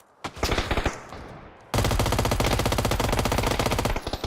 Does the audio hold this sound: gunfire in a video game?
yes